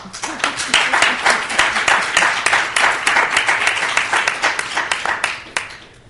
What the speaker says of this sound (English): I would hope that you would give a round of applause for our excellent collection of speakers here today